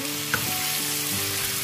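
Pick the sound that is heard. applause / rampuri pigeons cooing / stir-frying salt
stir-frying salt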